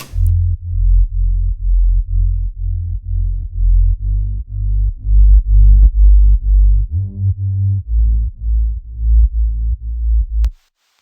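Simple, heavily filtered deep house synth bass made in Serum. Deep, rounded notes pulse alone in a steady repeating rhythm, loud and dull-toned, then stop abruptly.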